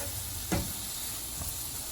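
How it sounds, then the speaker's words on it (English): Veggie chunks sizzle quietly in a pan, a soft steady frying hiss with one brief clatter partway through. "my Veggie Chunks frying up"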